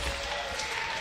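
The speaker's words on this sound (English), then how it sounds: "Clapping here at PAX for Nick." Brief burst of crowd applause at PAX during a Fortnite Summer Skirmish match, a dense wash of clapping filling the whole second with no pauses.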